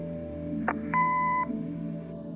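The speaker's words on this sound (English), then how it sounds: "Leave a message after the beep." Answering machine beep in the Kathy Rain video game: a short electronic blip, then a steady half-second tone, heard near and clear over a low background hum.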